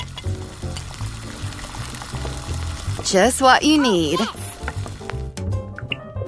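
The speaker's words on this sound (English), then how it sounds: "Stirring it." A sugar and soda mixture stirred in a small pan, crackling and sizzling steadily, with scraping stirs in the middle and a voice speaking briefly over it.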